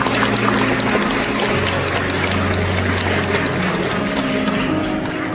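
Guests at a wedding ceremony in Jincheon give a steady round of applause, a thick continuous patter over a low droning hum of the hall's sound system.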